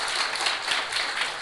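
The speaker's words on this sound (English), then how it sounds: "I think he deserves a round of applause" Conference audience clapping for a presenter at a medical Friday morning conference, a brief burst of dense applause throughout, moderately loud and unbroken.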